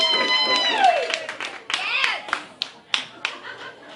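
Audience at a hypnosis show at a Christmas party breaking into brief, close clapping, with excited voices and a high squeal over the start, then scattered sharp claps tapering off.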